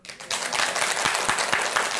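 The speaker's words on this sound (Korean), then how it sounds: "박수 쳐주세요." Audience at a Buddhist lecture breaks into applause, a dense burst of many people clapping that starts suddenly and holds steady throughout.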